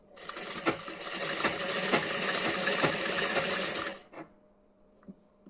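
Sewing machine stitching the front of a blouse, a rapid steady mechanical whir with rhythmic needle ticks, running close and loud for about four seconds before stopping, followed by a few faint clicks.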